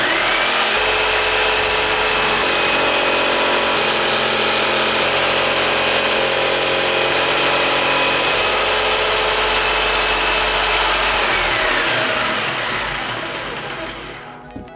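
A jigsaw mounted on an aluminium-frame jigsaw table cuts a short circular arc in wood, a loud continuous buzzing whine that holds steady for about twelve seconds before winding down.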